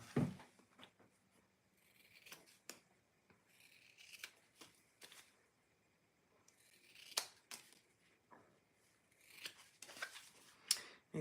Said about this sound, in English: Okay, I'm going to trim these. Let me find my scissors.